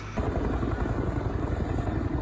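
A Chinook helicopter of the California Air National Guard flies during an overnight rescue, its steady, heavy rotor thump and engine roar loud and continuous throughout, with no voices.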